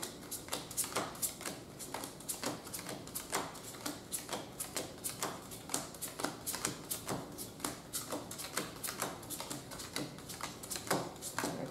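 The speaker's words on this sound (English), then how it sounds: "You divide your deck in 4 piles till all of your cards have gone." Cards dealt one by one from a deck into four piles, a steady run of quick soft slaps and flicks close by with no talking.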